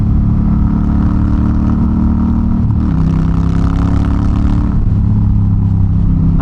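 Close and loud, an unmuffled Honda Rebel 1100 parallel-twin motorcycle burbles along steadily on the highway, its tone dropping and climbing again as gears change.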